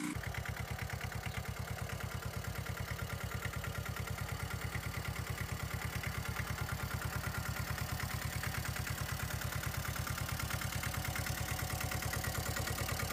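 A 4x4 mini tractor with an articulated frame runs a steady, rhythmic chugging engine while stuck in mud, a constant mid-low throb with no talking.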